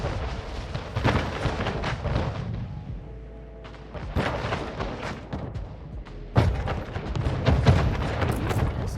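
Ship cannons firing in the video game Anno 1800, several loud booming blasts spaced a couple of seconds apart, each with a rumbling tail, over a low battle background.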